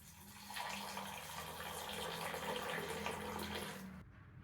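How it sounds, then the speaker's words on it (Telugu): Hot water pouring steadily over soya chunks in a bowl, a continuous close rushing splash that swells after the first half second and holds until it stops abruptly near the end, with no talking. "వేడి నీళ్ళు పోసుకున్నాం"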